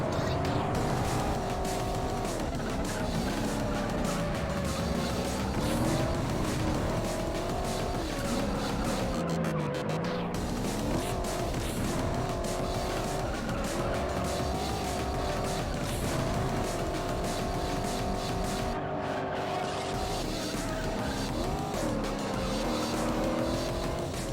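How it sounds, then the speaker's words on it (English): Camaro race cars in the racing game Juiced roar steadily throughout, their engine tones rising and falling as they race, with tire squeal and skids mixed in. "Oh boy, the Camaro race"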